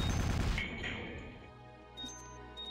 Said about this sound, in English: Shooting yarn balls at a robot should not kill it.